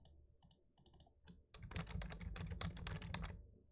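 Typing on a computer keyboard while writing CSS code: a few sparse key clicks at first, then a fast, dense run of close, crisp keystrokes with no voice.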